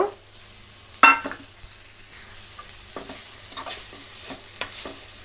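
Potato and other ingredients fry in a pan, with sharp spatula scrapes and knocks over a soft background sizzle, one loud clack near the start and several quieter strokes later, no voices.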